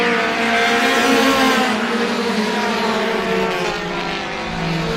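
Race cars in a Roadrunner-class feature race at Star Speedway roar continuously around the oval, a loud, steady engine drone with shifting pitch as several cars run close together, with no talk.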